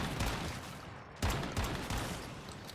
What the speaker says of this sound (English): These turrets aren't totally useless.